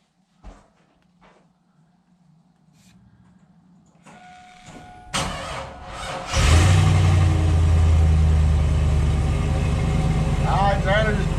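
A Chevy truck raised on a jack cranks with a quick whirring starter, then its engine catches and settles into a loud, steady idle close by; a few faint voices come before the start.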